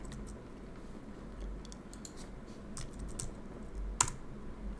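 Typing on a computer keyboard while setting up security software, with quiet scattered key clicks over a low hum and one sharper tap near the end.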